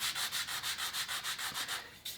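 Rhythmic back-and-forth hand sanding of a wood finish with 100-grit sandpaper, about a dozen quick, even scrubbing strokes close by, with a brief pause near the end.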